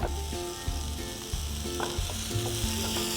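Garlic cloves sautéing in a pan for rice upma, giving a steady close sizzle and fry hiss throughout, with a few light clinks of stirring.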